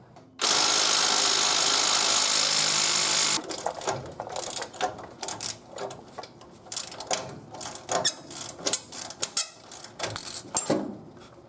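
A ratchet wrench works on the front spring bolts of a 1973-1979 Ford F-150: a loud, steady hiss comes first, followed by irregular bursts of quick metallic clicking, close by.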